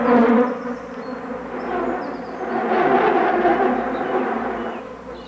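Flies swarm and feed on the sticky spore liquid of a fungus, their buzzing a dense, continuous drone that swells and fades close by, with no voices.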